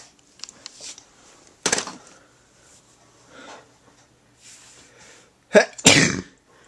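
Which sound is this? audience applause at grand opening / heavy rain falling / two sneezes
two sneezes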